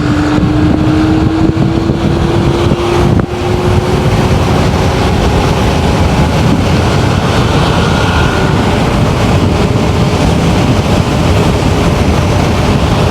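A Simple One electric scooter at maximum throttle in ride mode: heavy wind rush buffets the microphone as a thin motor whine climbs steadily in pitch, with a brief thump partway through.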